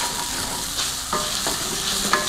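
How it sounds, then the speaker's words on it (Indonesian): Aromatics sauté in a pan with a constant close sizzle and occasional scraping strokes of a spoon stirring them. "Nah, slowly keep stirring."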